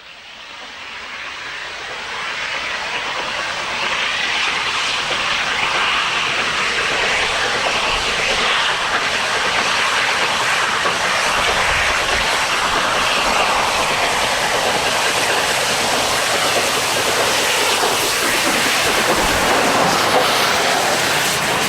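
A Black Five Stanier Class 5 4-6-0 steam locomotive hauling ten bogie coaches up Hatton Bank makes a loud, steady roar that swells in and holds without a break.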